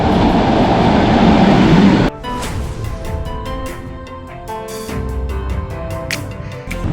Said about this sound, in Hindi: बस अभी 1 मिनट बाकी है और इन टाइम ये ट्रेन आ चुकी है।